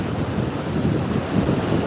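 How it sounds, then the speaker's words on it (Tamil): Steady broadband rush of river water from the Noyyal flowing into Kurichi lake in southern Coimbatore, a continuous outdoor roar with wind buffeting the microphone and no voices. "தண்ணீர் வந்து கொண்டு இருக்கிறது நொய்யலிலிருந்து"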